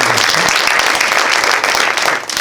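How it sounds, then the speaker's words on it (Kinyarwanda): A congregation claps for its pastors at a church testimony gathering, a loud, dense burst of applause that runs close and full before thinning slightly at the end. "Munyemere rero abashumba tubaha amashyi."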